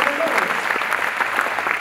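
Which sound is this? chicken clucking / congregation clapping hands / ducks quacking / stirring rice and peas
congregation clapping hands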